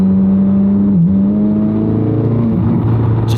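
Corvette C8 Z06 V8 engine held at steady high revs in sport mode after a downshift, a loud continuous drone from inside the car with a brief dip in pitch and then rising again.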